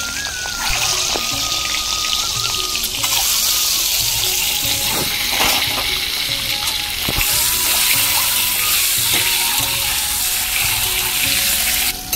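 Slit boiled eggs drop into hot oil with turmeric and salt, setting off a loud, sustained sizzle with sputtering crackles and occasional clinks of the pan, close up and without talk.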